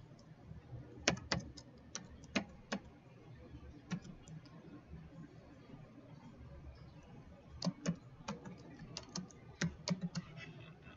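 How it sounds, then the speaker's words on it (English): Someone types a password on a computer keyboard while setting up remote assistance in Windows 10: two quiet bursts of quick, uneven key clicks, near and alone, separated by a pause of several seconds. "Now we want to type in that password."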